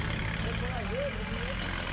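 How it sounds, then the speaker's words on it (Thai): A bulldozer pushing soil at village earthworks rumbles with a steady low engine drone, heard nearby with a brief rising whine of strain in the middle. "รถไถกำลังดัน"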